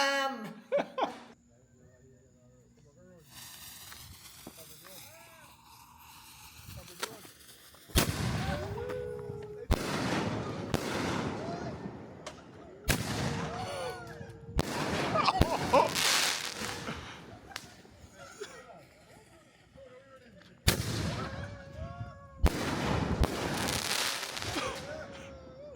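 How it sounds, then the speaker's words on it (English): Heavy fireworks boom and crack at a Christmas celebration in the Cayman Islands, loud blasts repeating at irregular intervals with crackling tails, and brief laughter and voices between them. "The fireworks have gone off."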